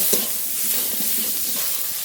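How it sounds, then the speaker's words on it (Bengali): Spice paste with salt and turmeric frying in a pan gives a steady, close sizzle with soft stirring scrapes throughout, and no voices. "লবণ হলুদ মশলাটা খুব ভালো করে ভেজে নেব"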